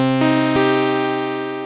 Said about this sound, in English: This is the sound of the Polysix on its own.